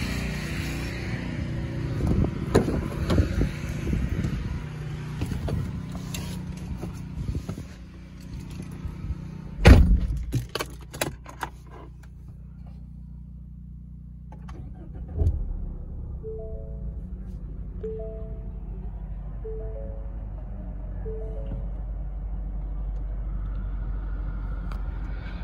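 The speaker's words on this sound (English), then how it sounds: "2023 Mustang startup" A 2023 Ford Mustang convertible engine starts with a sharp crank and a loud burst, then drops to a steady low idle rumble while soft chimes sound from the cabin.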